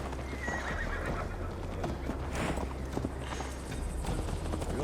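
Horses riding in Assassin's Creed Valhalla, steady galloping hoofbeats with a horse neighing over a dense, constant bed of ambient noise.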